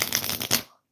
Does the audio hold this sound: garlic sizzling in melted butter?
no